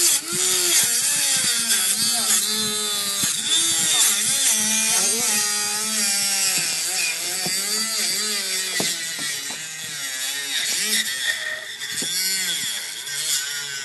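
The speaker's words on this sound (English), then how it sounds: "now we're going to cut a divot out of it" A hand tool cuts a divot out of PE pipe for a hoophouse greenhouse clip, close rasping and grinding strokes with pitch sweeps, continuous and loud throughout, with no talk.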